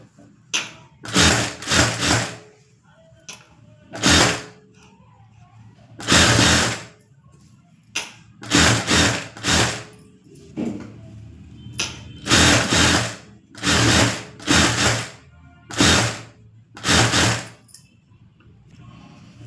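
A tailoring sewing machine stitches a hemming strip in repeated short bursts, each a loud rapid whirring run lasting about a second, separated by brief pauses while the fabric is adjusted.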